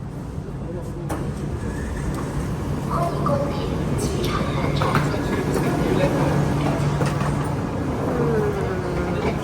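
A train riding on rails on the way to a hotel in China, a steady dense rumble and hiss from inside the carriage with faint squeals and clicks, and people talking underneath.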